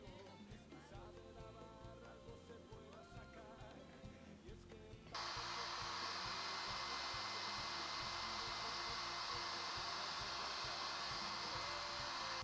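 A hair dryer blows on wet acrylic paint, its steady broadband whoosh starting abruptly about five seconds in and running loud and unbroken over a low rhythmic background beat.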